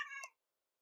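A cat gives a single short, clear meow close by, lasting about a third of a second before silence.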